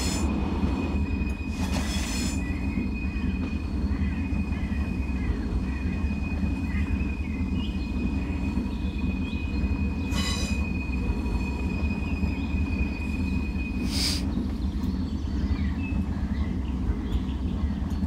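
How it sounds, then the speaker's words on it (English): Corris No. 9, a small narrow-gauge steam locomotive in Train Simulator 2019, rumbles steadily along with a continuous low drone and wheel noise, broken by a few sharp hissing bursts and a thin high squeal near the track. "It's a cute loco."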